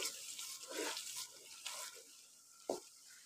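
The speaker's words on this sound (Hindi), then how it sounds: "हल्का सा पानी डालेंगे।" Water is poured into frying spices for chicken nihari, short splashing and sizzling bursts with a stirring scrape and a sharp clink, quiet and close in a kitchen.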